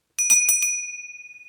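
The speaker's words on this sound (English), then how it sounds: "I'm going to ring the bell to stop you" A hand bell struck a few quick times, then one bright ringing tone sustains and slowly fades, close and clear with no voices.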